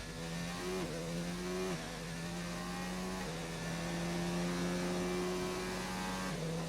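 A McLaren race car engine on a qualifying lap in a racing game drones steadily at high revs, with a shift and a pitch dip around one second and again near the end, loud and continuous.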